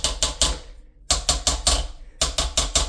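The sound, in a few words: toilet brush tapped around the bowl to shed water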